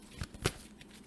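A brief, soft riffle and flutter of tarot cards being shuffled, with a couple of quick slaps close by.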